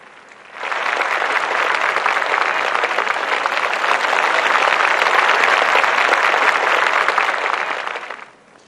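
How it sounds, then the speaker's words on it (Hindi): A large audience at a forest committees conference in Madhya Pradesh bursts into applause, a loud, dense wash of clapping that swells in quickly, holds steady for several seconds, then fades out. "तालियां बजा के अभिनंदन कीजिए।"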